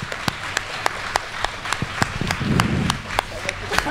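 Scattered, sparse clapping from an audience at a live YouTuber stage show, with sharp individual claps spaced out in a loose rhythm over a low murmur, fairly faint and brief.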